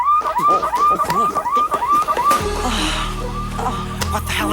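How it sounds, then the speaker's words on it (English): A biohazard alarm in a lab blares as a loud, rapid warbling tone repeated in quick pulses for over two seconds, then gives way to a lower steady electronic drone with noisy hiss, loud and close throughout. "That's the biohazard alarm."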